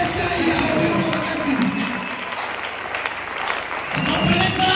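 A church congregation bursts into loud, dense applause that swells, dips briefly in the middle and rises again, with crowd voices mixed into the clapping.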